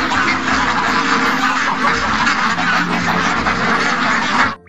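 Dense, continuous quacking from several ducks at close range, a busy flock calling over one another with no pauses.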